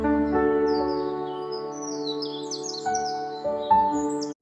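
A small cartoon bird near a window in an alley chirps in quick, high twittering bursts over a sustained tonal musical drone.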